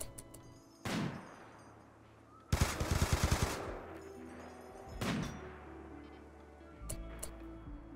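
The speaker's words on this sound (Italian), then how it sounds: "Ma che cazzo stai sparando le EMP?" EMP weapons firing in the colony game Rimworld: bursts of rapid automatic fire and sharp blasts, including one dense volley of quick shots, spaced among quieter stretches with no talk.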